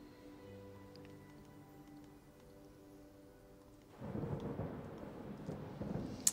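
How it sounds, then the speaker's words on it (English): Thunder in the video game Disney Dreamlight Valley rolls in after a quiet stretch with faint tones, a broad low rumble that swells and lingers to the end, with no voices. "that thunder is in the game"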